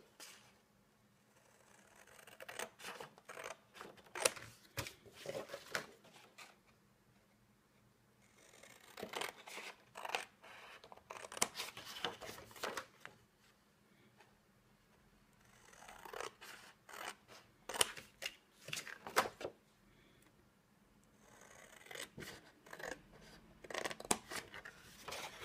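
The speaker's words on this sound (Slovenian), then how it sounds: "Zdaj jaz bom zaradi videa uporabila škarje in odrežemo po utoru." Scissors cut through paper along a scored groove while an explosion box is assembled, making quiet bursts of crisp snipping and rasping strokes separated by short pauses.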